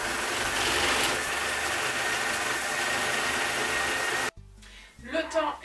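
A Thermomix TM6 kitchen machine runs at speed 4, making a loud, steady whirring drone that cuts off abruptly near the end, followed by brief clattering and a voice.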